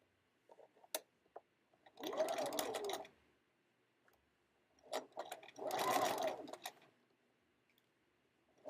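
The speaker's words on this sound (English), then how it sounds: "I'm just sewing those two layers together" Sewing machine stitching two fabric layers of a heart-shaped zippy pouch, with two bursts of rapid, rattling stitching separated by a pause, plus scattered light clicks and taps in between, fairly quiet and close.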